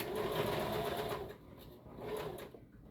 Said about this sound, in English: I'm going to top stitch all the way around it